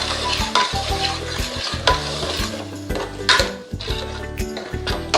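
Cooked dal tipped into a hot pan and stirred for Rajasthani dal bafla bati, with a steady close sizzle and repeated scraping stirs, spoon knocks and clinks against the metal pan, no talking.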